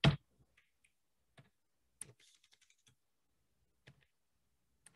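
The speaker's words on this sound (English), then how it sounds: "So I go ipconfig/all." Sparse keystrokes on a computer keyboard as a short command is entered, faint and separated clicks with a louder tap at the start, no talking.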